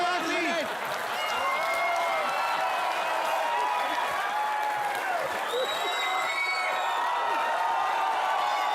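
A studio audience at the comedy show Comedy Nights With Kapil breaks into sustained applause mixed with cheering and whoops, a dense, steady roar of clapping that stays loud from start to finish.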